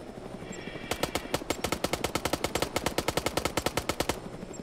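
Rapid automatic gunfire in the military shooter ArmA 3 during a SWAT raid on Altis, a long burst of evenly spaced sharp shots after a quiet lead-in, close and loud, then cutting off.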